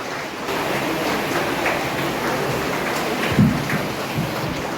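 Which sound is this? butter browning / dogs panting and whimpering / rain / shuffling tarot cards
rain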